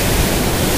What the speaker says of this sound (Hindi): ये नदी का बहाव देख के भाई चक्कर आ रहा है